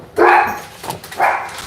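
Dogs bark close and loud, two sharp barks about a second apart in an indoor setting, with a little yipping between them.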